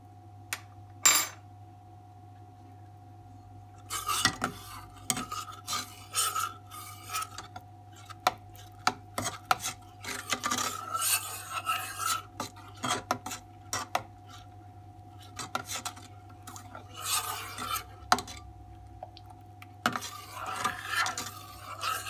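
A spoon stirs orange food colouring into sugar syrup in a metal pot, making scattered light clinks and scraping rubs in uneven bursts against a quiet background.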